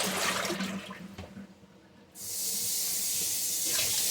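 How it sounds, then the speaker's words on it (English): Cold water gushes from a sink tap, a loud steady hiss of running water that cuts in abruptly after a stretch of clattering kitchen noise. "And this is cold water that I'm using."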